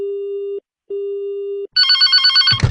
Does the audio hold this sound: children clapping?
no